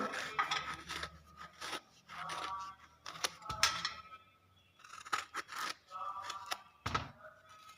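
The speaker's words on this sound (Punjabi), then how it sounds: "ਹੁਣ ਆਪਾਂ ਇਹਦੇ ਪੀਸ ਕੱਟ ਲਾਂਗੇ ਇਹਨੂੰ ਆਪਾਂ ਛੋਟੇ ਛੋਟੇ ਪੀਸਿਸ ਵਿੱਚ ਕੱਟ ਲਾਂਗੇ" A knife cutting galgal, a hill lemon, into small pieces for pickle, giving a series of close, irregular cutting and chopping thunks with short pauses between them.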